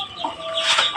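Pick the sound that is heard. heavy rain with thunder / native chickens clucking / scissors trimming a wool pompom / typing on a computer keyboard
native chickens clucking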